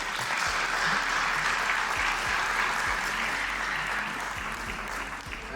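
Sustained, dense applause from a large audience at a Merck Foundation inauguration ceremony, honoring the First Lady of the Republic of Burundi; steady and loud throughout with no let-up.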